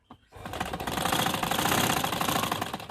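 A sewing machine stitches fabric for a ladies' suit collar, running in a steady rapid mechanical chatter after a brief start, close and continuous with no talk.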